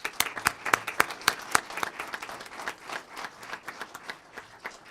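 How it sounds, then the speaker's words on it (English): Applause from a city council meeting audience, a moderate crowd clapping steadily for about five seconds with several sharp, louder individual claps standing out near the front, then thinning slightly. "And let's give Officer Melian another round of applause."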